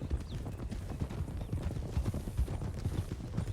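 Horse hooves clip-clop in a steady rhythm, close and fairly loud over a low rumble, with no talking.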